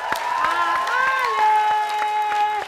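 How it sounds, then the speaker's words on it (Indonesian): Studio audience clapping during the Indonesian comedy show Funtastik. Scattered claps sound throughout over steady, sustained tones that carry across the whole stretch. "gua tepuk tangan untuk Pak Bolot, Pak Jojonan."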